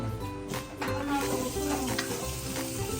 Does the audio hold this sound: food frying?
yes